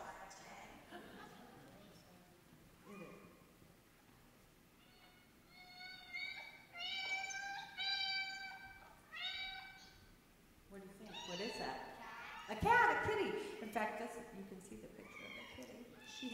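Several high-pitched kitten meows repeat in quick succession, some overlapping, with a voice speaking faintly at times around them.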